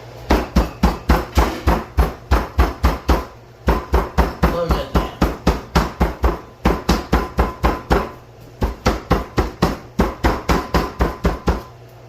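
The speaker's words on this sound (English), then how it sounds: "we got a can of pineapple slices wrapped up with saran wrap. We're going to use this as our tenderizer." Schnitzel meat being pounded with a can of pineapple slices wrapped in plastic wrap, rapid loud rhythmic thuds in bursts of about a dozen strikes with brief pauses between, close up.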